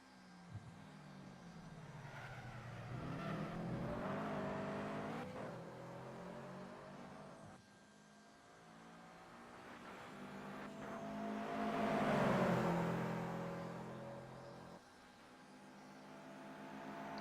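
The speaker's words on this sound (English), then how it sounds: "Listen to these Imprezas roar around the Edmonton airport" Subaru Impreza race cars roar past on a circuit at the Edmonton airport, engines swelling as each approaches and fading away, in two long drive-by waves from a moderate distance.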